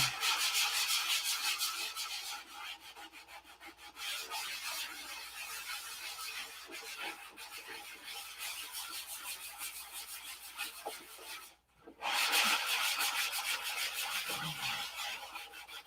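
Sandpaper rubs steadily over a P-47 aircraft model in long, continuous rasping strokes, close and fairly loud, pausing briefly once before resuming.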